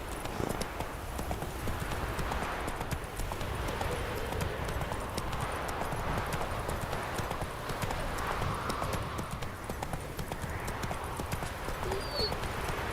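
A horse's hooves clip-clop in a steady, continuous rhythm while riding through the game The Witcher 3, moderately close and even, with faint background ambience throughout.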